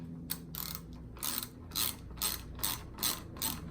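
A ratchet wrench tightens the deck bolts on a Sole treadmill, seven or eight crisp clicking bursts in a steady back-and-forth rhythm, close and clear.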